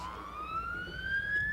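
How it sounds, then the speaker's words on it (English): Fire company sirens at a 1992 Christmas parade in Ship Bottom, a single rising siren wail sounding somewhat distant over a steady crowd background. "I think you can gather we have a rescue unit or a fire department of some kind coming up by the sirens"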